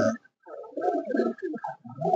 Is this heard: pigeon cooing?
yes